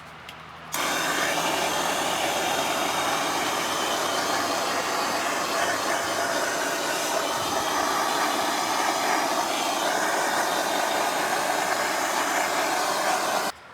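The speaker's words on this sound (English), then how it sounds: "I'm just going to use a propane torch now just to clean off these fuzzies" A propane torch roars steadily for about thirteen seconds, loud and continuous with a sharp start and stop, as its flame burns wood fuzz off a chainsaw-carved hawk or eagle.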